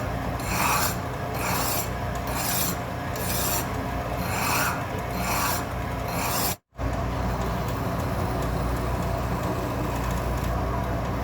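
A hand file rasps across a freshly cut lathe lead screw for an Atlas 10-D taper attachment in a series of regular back-and-forth strokes. A brief silent gap is followed by continued grinding rubs close by.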